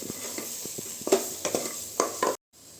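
Meal maker (soy chunks) being stirred into gravy in a pan, a spoon scraping in several distinct strokes with a light sizzle underneath, close and fairly loud, then stopping abruptly.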